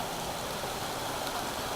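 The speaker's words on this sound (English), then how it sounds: "I don't know if you guys can tell, but it's raining." Rain falls steadily outside an open barn door, a soft, even hiss of drops with no breaks or distinct patters, heard quietly and alone.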